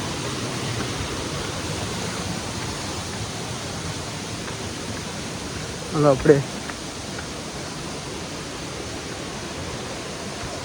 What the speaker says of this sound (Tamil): இங்கே ஒரு ஃபால்ஸ் இருக்குது